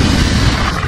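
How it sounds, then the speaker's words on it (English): A loud, broad rumbling boom, like a massive stellar explosion, filling the whole clip with dense low roar. "pulsars are formed in these incredible explosions."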